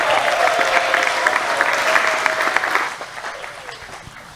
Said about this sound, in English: Clap more than that.